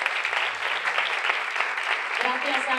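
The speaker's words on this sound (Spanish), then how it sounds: "un tímido aplauso." At a women's basketball event, a modest audience gives a timid round of applause, a soft, even patter of clapping that runs under voices, while a speaker's voice shows up near the end.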